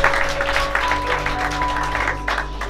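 A crowd applauds in a steady wash of clapping over a low constant hum, without pause for the whole stretch.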